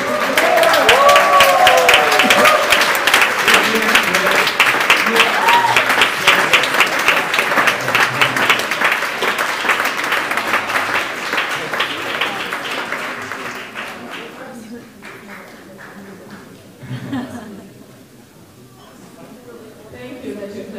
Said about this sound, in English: Thank you that you're clapping.